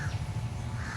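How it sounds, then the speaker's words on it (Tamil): Crows caw loudly and close in a dense, harsh burst lasting about a second, set against a low steady rumble outdoors at a temple town. "அப்படியே இந்த காக்கா நிறைய அப்படியே சுற்றி சுற்றி இருக்கும்."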